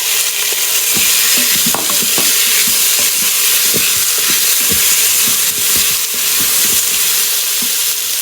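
Tomatoes fry in an Instant Pot, a loud continuous sizzle with scattered pops and scraping stirs running throughout, with no voices.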